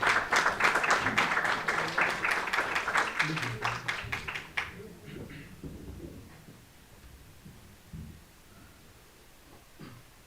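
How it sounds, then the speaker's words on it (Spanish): An audience claps loudly and densely for about four and a half seconds at a tonada singing festival in Turón, then the applause breaks off into quieter room noise with a few low murmurs. "vamos a recibirla con un fuerte aplauso"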